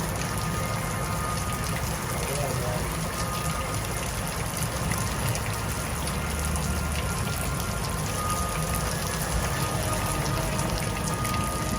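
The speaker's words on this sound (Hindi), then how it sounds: "तकरीबन काफ़ी तेज़ थी बारिश, तूफ़ान भी साथ बड़ा तेज़ था।" Steady, heavy rain pours down in a windstorm with a constant broadband hiss and gusty rumble, a dense wall of noise with no voices.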